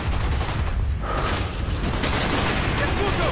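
Shotgun fire in Call of Duty: Black Ops, a loud continuous barrage of booming shots and battle noise filling the whole stretch, with heavy low-end rumble throughout.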